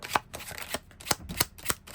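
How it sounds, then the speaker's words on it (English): Tarot cards are shuffled in quick rhythmic riffles, a series of short crisp flutters close up, with no talking. "But you always gotta shuffle, just in case."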